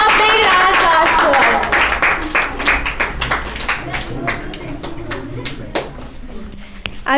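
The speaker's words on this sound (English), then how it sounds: "Give a big round of applause for" Clapping from an audience at a monthly rewards and recognition ceremony, a dense, continuous patter of hands that thins toward the end, with a voice talking over it at first.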